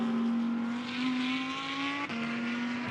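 A GT2 race car at Misano holds a steady, loud engine note through a turn, pitch dipping slightly mid-pass, a close continuous drone with no voices.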